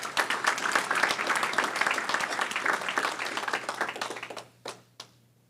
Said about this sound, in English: we want to give her a round of applause.